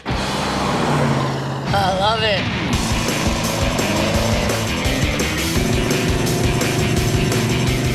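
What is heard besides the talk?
1968 Pontiac GTO muscle car engine while driving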